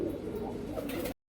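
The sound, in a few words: Madrasi kalsara pigeon cooing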